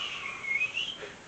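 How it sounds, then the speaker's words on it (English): Mercury's orbit rendered as sound: a high, thin synthetic whistle that sweeps down and back up in quick repeated swoops over about a second, moderately loud and alone. "a high-pitched whistle that kind of descends and then goes back up and descends and it goes back up"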